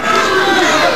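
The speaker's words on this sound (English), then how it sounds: "The crowd begins chanting Bruiser and Andre." A big wrestling arena crowd roars and chants in steady unison for Bruiser and Andre, a loud and dense wall of voices.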